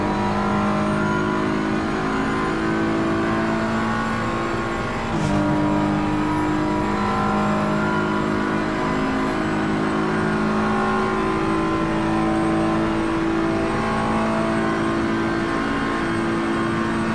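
A BMW race car accelerates down the long straight at Paul Ricard in a racing video game, its engine a loud, sustained, steady drone that rises slowly in pitch and holds for around seventeen seconds.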